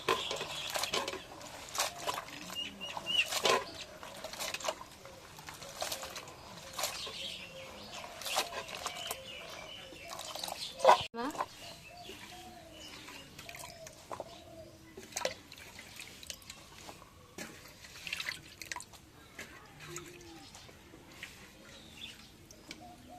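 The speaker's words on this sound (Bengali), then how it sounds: "এখন বেগুনের কাটা হয়ে গেছে এখন ধুয়ে নিই" Cut eggplant is rinsed by hand in water, giving faint, irregular splashes, drips and sloshes throughout, with one louder splash midway.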